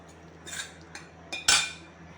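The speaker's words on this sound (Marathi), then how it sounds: "पनीर टाकून असं व्यवस्थित असं मिक्स करून घेतलं" Metal spoon scraping and clinking against a pan while fried paneer is mixed into palak, a few short close knocks with one sharper scrape near the end, no talk.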